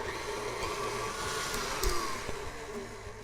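Hand mixer creaming room-temperature unsalted butter in a bowl, a steady close whirring motor hum running throughout with a slight rise near the middle.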